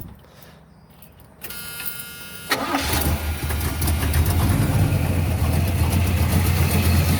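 A 1977 Chevrolet El Camino's starter whirs briefly before the engine catches, then settles into a steady, loud, rumbling idle that carries on to the end, heard close up.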